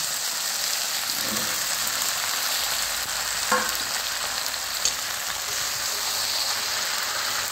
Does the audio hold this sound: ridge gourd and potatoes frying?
yes